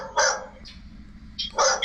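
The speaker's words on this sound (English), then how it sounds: "the only dog in Puerto Rico that barks at the cameras" A dog barks at close range, two or three sharp barks with pauses between, loud and clear against a quiet background.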